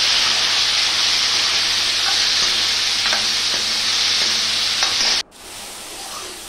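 Radish, whole coriander seeds, green and red chillies and cumin fry in a kadai with a loud, steady, close sizzle that cuts off abruptly near the end, leaving only quiet background.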